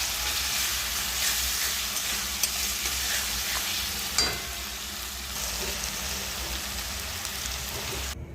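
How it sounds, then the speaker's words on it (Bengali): Chopped onion and tomato fry in a pan with a loud, steady, close sizzle, broken by a few sharp stirring knocks. "দেবো টমেটো কুচি, ভালো করে ভাজা হবে।"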